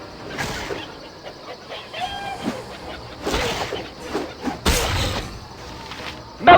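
A chicken clucks in the Baldur's Gate Enhanced Edition video game, with short clucks scattered over game sound effects and a loud burst near the end.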